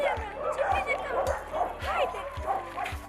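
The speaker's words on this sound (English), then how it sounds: "So there are a lot of dogs here." Street dogs in Vlora, Albania, bark in short repeated yips and whimper, close by and roughly evenly spaced, while people talk underneath.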